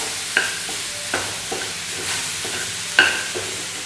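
Soya chunks sautéed with masala in a pan, a steady close sizzle with several sharp scraping stirs of a spoon against the pan.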